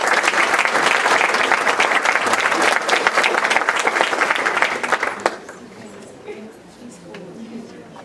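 Sustained applause from an audience honoring students at a Pasadena school board meeting, loud and dense for about five seconds before fading to quiet room murmur.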